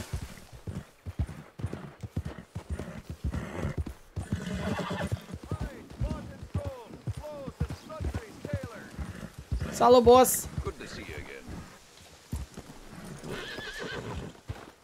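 A horse in the Red Dead Redemption 2 video game whinnies and clip-clops on its hooves, with steady game ambience underneath while someone talks over much of it in Romanian.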